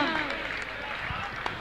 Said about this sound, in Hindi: एक बार जोरदार तालियों के साथ जैनम जयतु शासनम